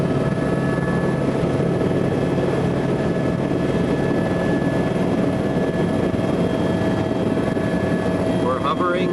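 A helicopter hovers close by, its steady loud rotor and turbine drone continuing evenly throughout with a constant mechanical whine.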